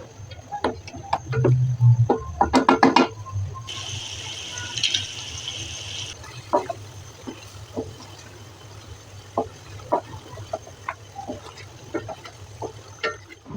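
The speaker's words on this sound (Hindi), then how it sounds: "इसके अंदर आलू और पानी शामिल करके मैं इसको हल्की आंच पे ढक के रख दूंगी" Potatoes and water added to chicken with biryani masala in a home kitchen: scattered clicks and rattles of pieces dropping into the pot, then a steady pour of water for a couple of seconds, followed by more sparse clinks.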